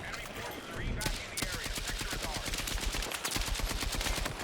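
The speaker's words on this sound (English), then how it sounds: "Don't know what I'm shooting at, but I'm just shooting. Suppressing fire, baby." A KTS100 MK8 light machine gun in Battlefield 6 fires long, rapid automatic bursts, loud and close, each shot a sharp crack in a steady rattling rhythm, with a voice faintly mixed underneath.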